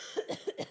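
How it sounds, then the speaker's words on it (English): Several harsh coughs in quick succession from a person who has the flu, close and fairly loud, with no talking. "That's gonna make me cough."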